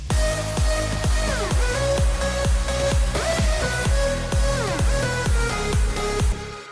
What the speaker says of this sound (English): So altogether, the synths sound like this.